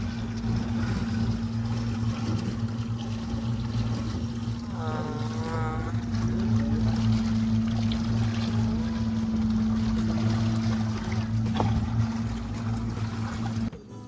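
A small boat chugs along a small river in Darbat, Oman, its engine a steady low drone throughout, with water trickling and brief faint sounds in the background before the noise cuts out at the end.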